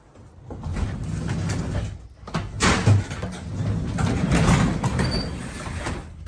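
A stiff door in a snowy winter shop, creaking and scraping as it is forced open or shut, with a couple of louder bangs and rattles over steady background noise, no talking.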